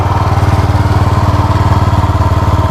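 Motorcycle engine running steadily after a kick start, loud and close, with a rapid, even thumping pulse that fills the whole stretch and no voices.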